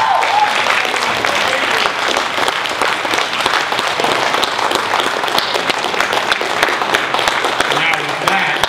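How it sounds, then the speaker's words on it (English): An audience at an event on Agenda 21 breaks into a loud, dense round of applause that holds steady for the whole stretch, with crowd voices blended into the clapping. "So another round of applause for a great America."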